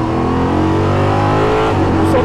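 Ligier JS P320 LMP3 race car on track, a loud close-up engine roar at high revs from inside the car, steady and sustained with the pitch shifting slightly, with a driver's voice underneath.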